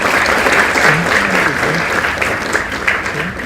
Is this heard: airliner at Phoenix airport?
no